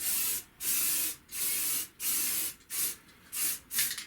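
Aerosol can spraying ACF 50 onto a Honda Vision 110 motorcycle exhaust in six or seven short hissing bursts, close and loud, separated by brief pauses.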